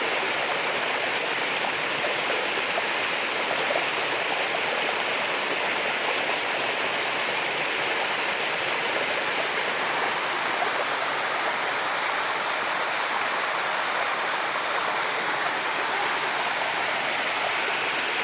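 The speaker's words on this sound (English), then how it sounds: "We're at the Waterfall on the Biltmore Estate." A waterfall on the Biltmore Estate rushes in a steady, dense roar of falling water, loud and unbroken from start to finish with no voices.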